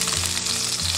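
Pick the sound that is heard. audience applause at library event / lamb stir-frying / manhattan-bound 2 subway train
lamb stir-frying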